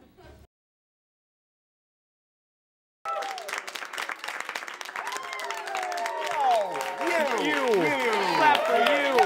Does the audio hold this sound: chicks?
no